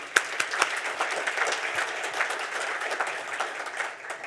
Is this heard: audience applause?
yes